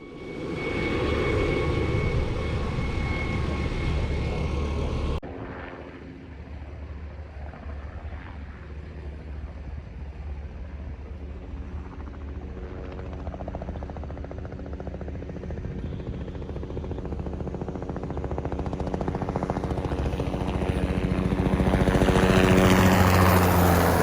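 A crop-spraying airplane flies over an Iowa field during a spray-pattern test, its engine drone steady and fairly loud throughout, dropping abruptly after a few seconds and then swelling again near the end as it passes.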